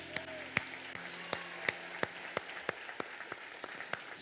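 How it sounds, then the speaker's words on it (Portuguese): A church congregation claps in a steady rhythm, with sharp, evenly spaced hand claps sounding somewhat distant and moderately quiet over a low room hum. "pode aplaudir Jesus"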